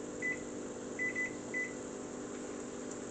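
A few short electronic beeps from a kitchen timer as it is set, close and distinct over a steady background hum from the kitchen.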